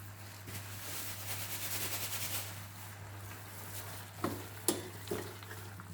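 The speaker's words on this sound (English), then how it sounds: "It's sizzling, so I'm going to put the heat up a little bit more" Soft, steady sizzling of apple in a frying pan with a low hum beneath, followed by a few sharp clinks of a utensil near the end.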